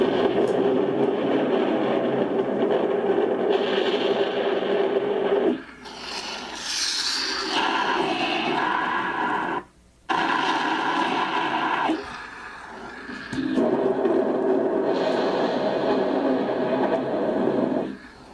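O scale model train rumble and clatter played through a small speaker, a steady rasping mechanical roar that drops out briefly a few times, no talking.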